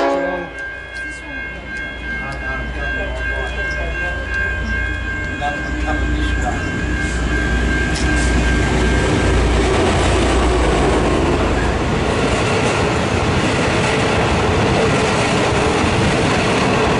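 V/Line N472 train with full carriages passing straight through a station without stopping, a loud continuous rumble building and roaring on for many seconds with screeching high tones, close and alone.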